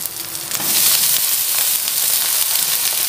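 Chopped taro stems hitting a hot oiled wok sizzle loudly, a sharp burst of frying that swells then holds as a steady, bright hiss close by.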